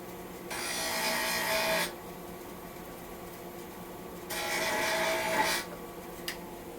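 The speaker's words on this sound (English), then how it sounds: "I'm going to find out if it's brass. I'm going to go to the grinder here." A grinder working a brass part pulled from a booster pack during a teardown: two separate harsh rasping bursts, each over a second long, with a quiet pause between them.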